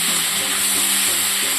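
Tomato and spices being stir-fried hard in a pan for a mustard-poppy rohu fish curry: a steady, loud, close sizzle with soft scraping from stirring throughout, no voices.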